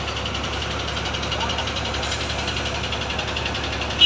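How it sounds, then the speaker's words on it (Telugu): A crane's engine runs with a loud, steady mid-range drone at a bridge construction site where a girder is being lifted, holding an even idle throughout with a slight bump at the very end. "ఇప్పుడు ఇంజన్ స్టార్ట్ చేసినాడు"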